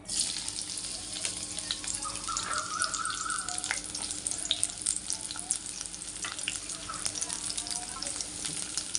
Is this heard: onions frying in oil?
yes